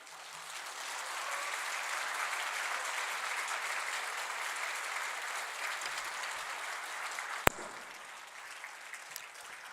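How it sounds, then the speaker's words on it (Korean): Church congregation at a Korean Sunday worship service gives a big, steady round of applause to welcome a visiting missionary, sustained and even for nearly ten seconds before tapering off. "우리 나오실 때 우리 한번 큰 박수로 축복하겠습니다."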